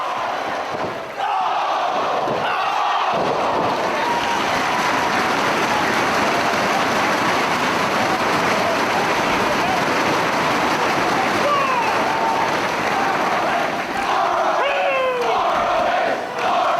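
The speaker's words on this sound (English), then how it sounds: "What a great crowd here in Philadelphia." A packed Philadelphia pro wrestling crowd roars without pause, a thick, loud wall of cheering and shouting that barely dips.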